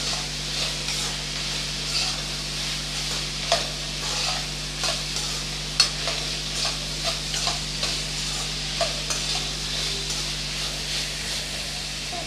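Brinjal sautéing in a hot pan for a Tamil-style thokku, a continuous sizzle and hiss with scattered scraping stirs of a spatula, close and steady with no talking.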